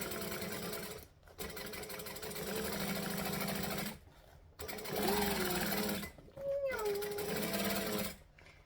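A sewing machine stitches a circle bag in loud whirring bursts separated by short pauses, while a voice hums along in rising and falling zooming tones that imitate the machine's motor.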